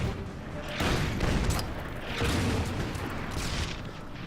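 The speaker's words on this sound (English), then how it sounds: "The artillery will take a shot at the T-26" Artillery fire in the World War II strategy game Order of Battle, aimed at a T-26 tank: two rumbling booms with rolling, noisy tails, fairly loud and unaccompanied by talk.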